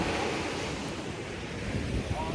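Surf washing onto a beach with steady wind buffeting the microphone, a constant broadband rush across the whole moment with no clear individual wave breaks.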